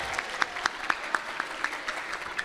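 Audience at an open mic comedy show on TVRI Maluku claps in a light, scattered burst, with individual hand claps standing out in an uneven rhythm at moderate distance.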